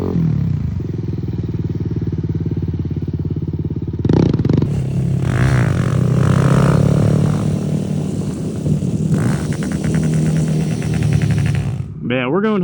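Stunt motorcycle fitted with a Yoshimura exhaust revs and rides close by, its engine note rising sharply after a few seconds of idle and holding a loud, steady roar before dropping near the end.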